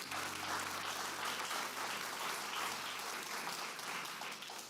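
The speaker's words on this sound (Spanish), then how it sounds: "Dele un fuerte aplauso al Señor." Church congregation applauds during a sermon, a faint, even spread of clapping heard at a distance with no speech over it.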